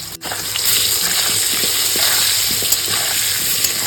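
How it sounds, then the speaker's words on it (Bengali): Potatoes frying in oil with turmeric and salt, a steady close sizzle with faint crackles and a few soft scrapes, continuing unbroken throughout. "এখানে আমি পাঁচ মিনিট আলুগুলো ভেজেছি"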